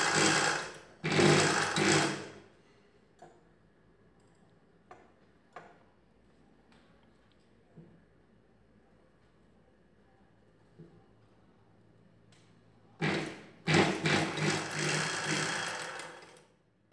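A sewing machine stitches lace onto a blouse in two loud, fast-rattling bursts at the start and end, with quiet ticks and small handling clicks in the pause between.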